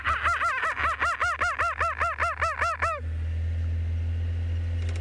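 A person imitates a kookaburra call with a rapid run of about a dozen loud, rhythmic, rising-and-falling hooting cackles that stops abruptly after three seconds.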